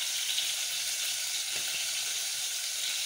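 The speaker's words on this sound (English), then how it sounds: "So we leave our onions to cook." Onions frying in a pan for githeri, a steady close hiss and sizzle of oil that holds even and unbroken throughout, with no talk over it.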